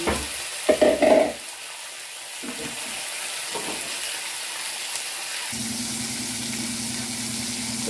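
Small pieces of meat dropped into hot olive oil, a few loud clattering thumps at first, then a steady, even sizzle and frying hiss that carries on throughout, with a low hum joining later.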